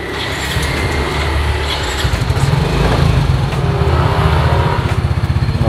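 A used motorcycle engine runs close by, its exhaust pulsing in a fast, throbbing rhythm that grows louder partway through.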